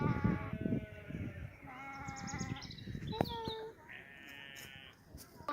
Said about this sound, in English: Oh yeah, there's a bunch of sheep. That one, I think it's that one over there. It's the vocal one.